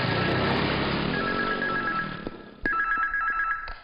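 A telephone rings in short repeated bursts of a bright electronic tone, fading and then starting again, with little else around it.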